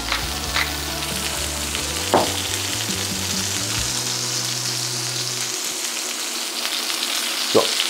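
Chicken and salted onions fry in a pan for a chickenburger, giving a continuous close sizzle with occasional stirring clunks and a low hum that fades out midway.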